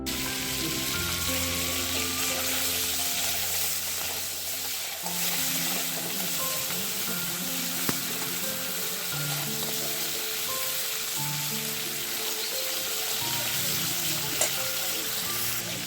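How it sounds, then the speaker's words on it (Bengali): Crabs frying in a wok of oil seasoned with salt and turmeric, a steady close, loud sizzle running throughout with occasional stirring clinks, no talking. "একটু কড়াতে তেল দিয়ে তার মধ্যে অল্প একটু নুন আর হলুদ দিয়ে দিয়েছি তারপরে কাঁকড়াগুলো দিয়ে ভেজে নিচ্ছি"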